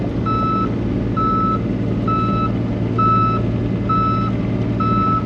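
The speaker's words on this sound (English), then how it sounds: "put that in the truck when you bring it over" A truck backs up with six loud, evenly spaced reversing beeps over a steady low engine rumble; no one speaks.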